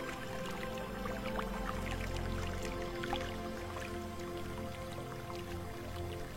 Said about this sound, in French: vos oreilles s'éveillent pour faire venir à vous le chant d'un ruisseau qui court non loin de là